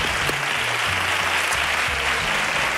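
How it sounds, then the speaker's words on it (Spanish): A television studio audience applauds the presenter at a fair-themed special, with dense, sustained clapping and no voices over it. "Público entendido donde los hubiere, que aplauden al presentador"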